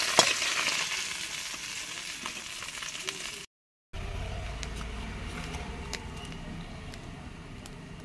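Fish fries in hot oil with a steady, close crackling sizzle that cuts out briefly for a moment, then resumes just as dense.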